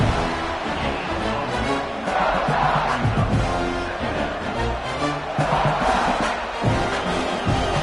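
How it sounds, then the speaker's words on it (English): A large crowd roars and cheers continuously, a dense wall of voices rising in waves, loud and sustained throughout. "This crowd bringing the energy and noise early."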